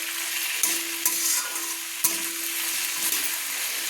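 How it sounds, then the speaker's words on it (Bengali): Chopped potatoes and onions frying in a pan while being stirred with a spatula, a constant close sizzle broken by a few light scraping knocks of the spatula. "খুন্তি দিয়ে একটু নাড়াচাড়া,"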